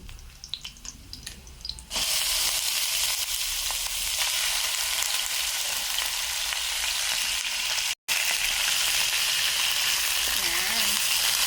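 Ground meat hitting hot oil with browned onion and garlic in the pan: a sudden loud, continuous sizzle close by after a brief stretch of quieter frying, broken by one tiny gap.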